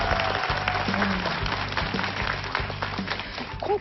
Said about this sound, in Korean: 자, 이분들께 저희 환영의 박수 드리겠습니다.